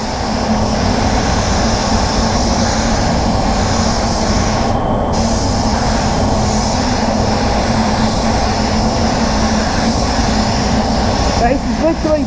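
A SATAjet 5000B RP 1.2 spray gun lays down clear coat, producing a loud, close, continuous airy hiss that holds steady with one brief dip partway through.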